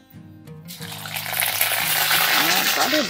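Ginger paste hits hot oil in a wok over low heat, already holding fried cardamom and cinnamon, and breaks into a steady, rising sizzle and spatter. A voice speaks briefly at the start.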